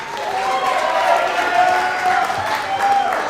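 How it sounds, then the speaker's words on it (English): An audience applauds and cheers for a school football team and its coach, a steady wash of clapping and crowd noise at moderate volume with voices mixed in. "Please give them a round of applause."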